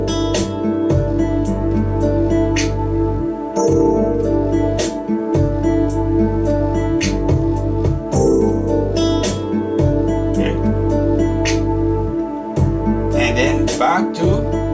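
An extended C dominant seventh chord with added ninth and thirteenth rings out on a keyboard or guitar, struck and sustained several times with full, loud harmonic tone across the passage and no talking.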